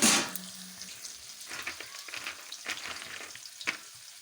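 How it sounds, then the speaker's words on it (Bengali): Chopped onion and chilli frying in oil for a saag curry, a soft steady sizzle at close range with a few louder stirring scrapes and clicks, no talking. "লঙ্কা আর পেঁয়াজ কুচানোটা একটু ভালোভাবে ভাজা হয়ে যাবে"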